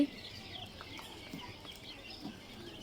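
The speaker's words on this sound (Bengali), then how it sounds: "এই যে আমাদের ফার্মে মুরগির বাচ্চা।" Egyptian Fayoumi chicks on a farm give a faint, continuous high-pitched chirping, many small peeps overlapping at a distance with no talk.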